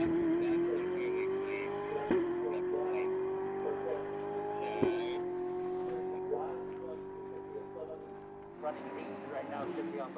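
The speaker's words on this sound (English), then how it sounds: "as we watch that Hublot Ferrari down this long back straightaway" A Hublot Ferrari GT race car roars down the long back straight at COTA during GT World Challenge America qualifying, its engine note rising steadily with two sharp gear shifts, under continuous commentary.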